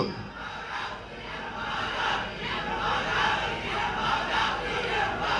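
A large crowd at a JanaSena political rally in the open air, shouting and cheering in a dense, continuous roar that swells slightly and stays loud throughout.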